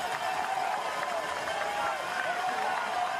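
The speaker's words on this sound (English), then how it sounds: "Spotting other nationalities in here, cheering these riders on" Crowd of spectators cheering cyclists on the steep cobbled Libby Hill climb at the 2015 UCI Men's Road World Championships in Richmond, a steady roar of shouts and cheers throughout, fairly distant and with no break.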